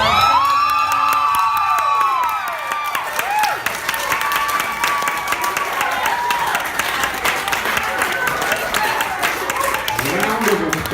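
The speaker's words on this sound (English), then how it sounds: "Round of applause for that performance." A crowd after a performance bursts into sustained applause and cheering, with dense clapping, whoops and shouting voices filling the whole stretch, loud and close throughout.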